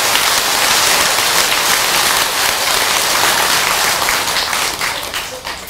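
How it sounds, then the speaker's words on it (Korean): A Buddhist dharma talk audience applauds in a hall, a dense, loud, steady wash of many hands clapping that thins out toward the end. "여러분 박수 한번 치세요!"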